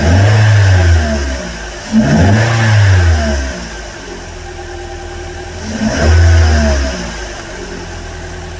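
A Toyota Altis with a fuel hesitation fault revs in repeated bursts, engine climbing and falling three times between idle, loud and close, with no talk.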